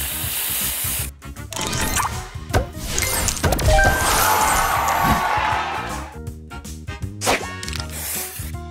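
Spray booster effect in the Match Masters puzzle game: a loud hissing spray burst amid whacks, crashes and crowd-like cheering, busy game sounds filling the clip.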